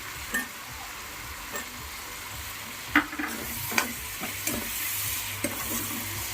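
Potato pieces fry in salted oil in a pan with a steady sizzle, broken by several close scrapes and stirs of a spoon. No one talks.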